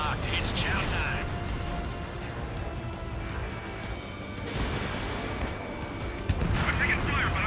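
Gunfire and explosions in the jet combat game Ace Combat 7 rumble on continuously beneath a steady engine roar, with bursts of harsher noise near the start and end, while voices talk over the action.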